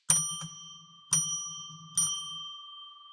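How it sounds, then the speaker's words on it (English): A small bell is struck three times at an even pace to mark out sacred space, each bright ring sounding near and clear and fading between strikes, with no talk. "let's ring a bell to declare sacred space"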